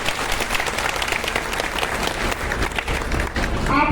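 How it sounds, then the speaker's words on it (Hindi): A crowd applauds at a political event with Bansuri Swaraj, dense continuous clapping heard close and loud throughout, swelling slightly toward the end with some voices mixed in. "जोरदार तालियां अपनी।"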